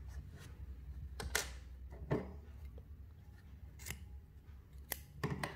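Several sharp scissor snips trimming crochet yarn on an amigurumi ice cream piece, spaced irregularly and close up in a quiet room.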